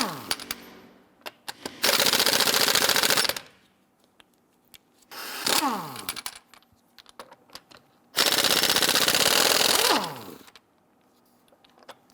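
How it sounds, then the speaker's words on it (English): Lug nuts on a 2011-2021 Jeep Grand Cherokee front wheel are loosened with a 22mm socket: two long, loud rattling bursts of a powered wrench, with a shorter burst between them and quiet gaps. "loosen and remove the lug nuts."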